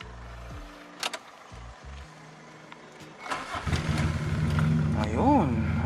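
A Toyota Corolla engine catches on the first crank after sitting unused, the short starter whir giving way to a steady idle that builds and holds, loud and close, with a person talking nearby.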